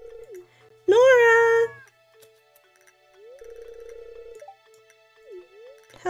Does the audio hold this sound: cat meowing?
yes